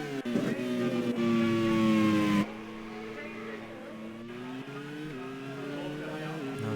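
Racing cars in a Grand Prix race at Parnu, engines whining at high revs with rising and falling pitch as one car overtakes, loud and near then easing off, under race commentary.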